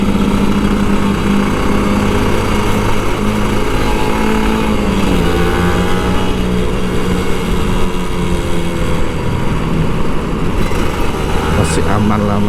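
An old Kawasaki Ninja RR 150 two-stroke motorcycle engine drones steadily and loudly throughout, held back rather than revved, with a busy street around it and a rider talking over the engine noise.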